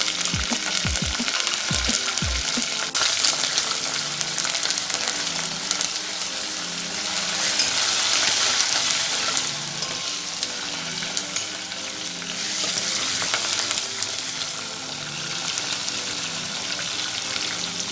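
Curry leaves, garlic and dried chilies sizzle loudly in hot tempering oil for Andhra-style pappu charu, a dense, steady crackle with a few sharp pops and stirring clatter near the start, no voices.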